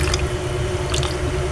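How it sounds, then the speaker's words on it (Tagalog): Water pours into a pot of tilapia paksiw with eggplant, a short, close, wet squishing splash with a few drips over a low steady hum. "dadagdagan ko na lang po siya ng kaunti pong tubig"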